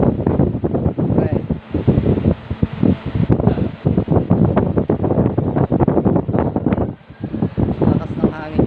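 A homemade blower fan built from a washing machine motor roars and gusts close to the microphone with buffeting wind noise, while people talk over it.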